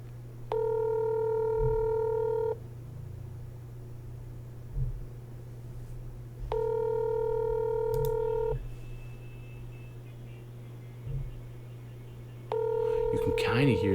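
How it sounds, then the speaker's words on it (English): A phone ringback tone repeats in three evenly spaced two-second rings over a low steady hum, with faint knocks and noises between rings as a call goes unanswered. "You can kind of hear the phone ringing inside the door"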